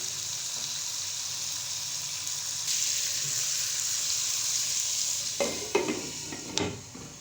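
Chicken and vegetables cook covered in a pan, giving a steady, even sizzle throughout, with a few soft clinks and scrapes from the pan near the end.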